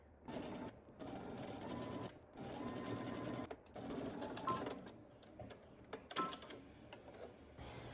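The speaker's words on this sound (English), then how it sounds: "I'm gonna go ahead and just stitch on my right side." A sewing machine stitches a hem in bursts of rapid mechanical whirring and needle chatter, separated by brief pauses, fairly quiet and close.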